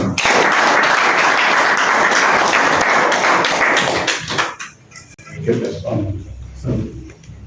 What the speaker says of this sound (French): je vous prie d'abord à cet effet d'applaudir chacun pour soi-même